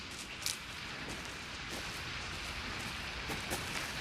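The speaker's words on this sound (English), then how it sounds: "Should have brought an umbrella. I like the rain." Steady rain falls in an outdoor game scene, a constant broadband hiss of drops on surfaces with a few faint brief accents, alone with no talk.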